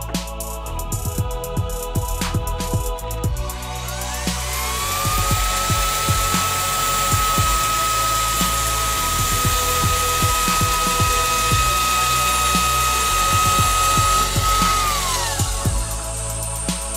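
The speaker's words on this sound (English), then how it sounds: "turning the extractor on as soon as the grinder is switched on" A Festool DSC AGC 18 cordless diamond cutting grinder spins up to a steady high-pitched whine, holds it for several seconds alongside a dust extractor's hum, then winds down.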